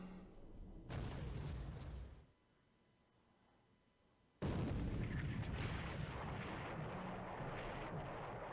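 A 15 cm naval gun fires in a WWII video game, two heavy booming blasts with rumbling tails, the second long and sustained, loud and close, with a quiet gap between them and no speech.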